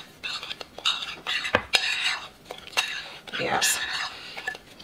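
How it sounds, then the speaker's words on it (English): A spoon stirs a dry seasoning mix in a bowl for homemade all-purpose seasoning, giving close, irregular clinks and scrapes against the bowl in short bursts. "now I'm just gonna give all these dry seasoning a mix"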